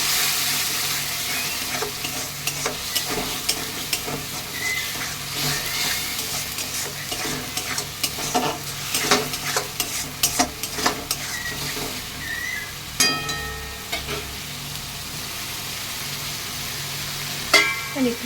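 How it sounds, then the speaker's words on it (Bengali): Masala for chicken kosha sizzles in oil in a pan while a spatula stirs and scrapes it, with a steady frying hiss under irregular clinks and scrapes, some louder knocks against the pan toward the end. "একটু ঢেকে ঢেকে ভাজছি।"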